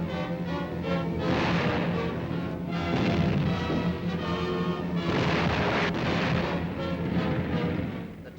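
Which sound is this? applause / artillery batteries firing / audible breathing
artillery batteries firing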